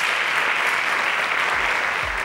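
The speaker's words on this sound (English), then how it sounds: "Please give her a round of applause." An audience applauds a young contestant at a mathematics contest, with steady dense clapping throughout and no talk over it.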